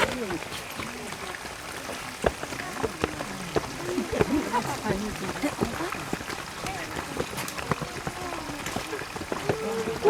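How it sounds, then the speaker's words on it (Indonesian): Waterfall along a Way of the Cross path at Puhsarang, Kediri, a continuous rushing wash of water heard beneath people talking nearby throughout. "Air terjun."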